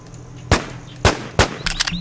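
Gunfire in the video game The WarZ: three sharp, separate shots roughly half a second apart, followed by a quicker cluster of fainter pops, with no talking over them.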